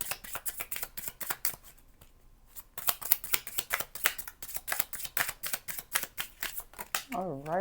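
Tarot cards are shuffled and drawn for a love reading, a rapid crisp riffling of rhythmic card snaps close up, ending as a voice starts speaking.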